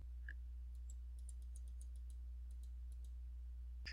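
Computer keyboard keys clicking as Control and tilde are pressed in an Excel spreadsheet, a run of light, quiet taps with a constant low hum underneath.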